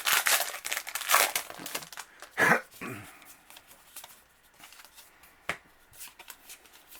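Magic: The Gathering Core 2021 booster packs are ripped open and handled, with sharp foil tearing and crinkling bursts near the start, then softer card shuffling and rustling at close range.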